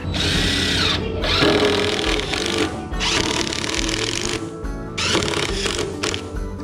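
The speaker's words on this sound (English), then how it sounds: "So now I'll put the screws in the end." A power drill drives screws into the end of a floor joist while a barn loft subfloor is built, with three loud, close bursts of whirring each ending abruptly as a screw seats, and no talking.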